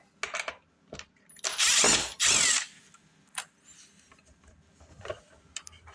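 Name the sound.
removing Phillips screw from LG dishwasher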